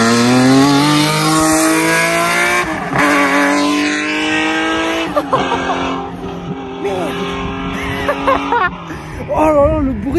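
Porsche 996 GT3 race car driven hard, a screaming engine climbing through revs with gear changes and falling pitch between shifts, loud and close, with people talking over it.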